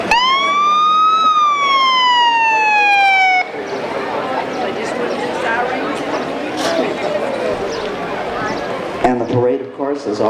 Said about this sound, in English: Out there are the sirens.